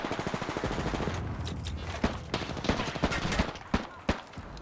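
Rapid automatic gunfire in the video game Apex Legends crackles in bursts, with sharp single shots standing out against a busy, continuous battle din.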